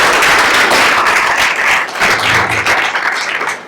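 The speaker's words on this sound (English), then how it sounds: "So let's give Eric another round of applause." Sustained audience applause for a speaker at an evening event on the future of American democracy, a dense wash of many hands clapping throughout, steady and fairly loud with a slight dip midway.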